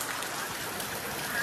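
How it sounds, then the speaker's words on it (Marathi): Heavy rain pouring down at a village home, a dense, even hiss of falling water with no pauses across the short stretch, with faint voices underneath. "पूर्ण पाऊस पडतोय."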